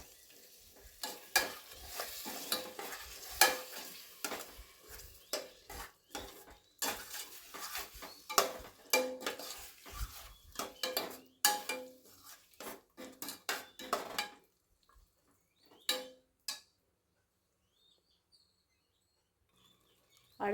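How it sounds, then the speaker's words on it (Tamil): Curd (yogurt) is sautéed in a pot for chicken biryani. A spoon repeatedly scrapes and clanks against the pot over a soft sizzle, then the stirring stops and only faint, occasional sounds remain. "தயிர் போட்டு நல்லா வதக்கிடணும்."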